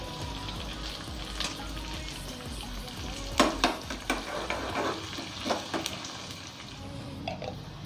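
Onions and dried chillies sizzle and crackle in hot oil for tempering keerai kadayal, with scattered sharp pops and stirring scrapes over a steady frying hiss.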